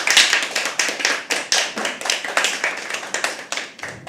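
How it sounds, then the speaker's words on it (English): A small audience at a live poetry open mic claps in a quick, fairly close rhythm of sharp individual hand claps, the beats uneven and overlapping with no talking. "Can you please have a round of applause?"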